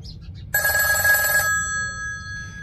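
A phone rings during a call in a children's vehicle cartoon: one short bright electronic ring lasting about a second, clear and close over a low background hum.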